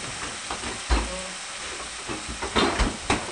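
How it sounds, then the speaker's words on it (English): Turkey bacon fries in a pan with a soft, uneven sizzle and hiss, broken by a few louder pops and clatters close by. "So I got my turkey bacon going."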